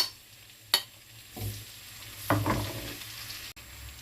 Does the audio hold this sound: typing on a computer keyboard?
no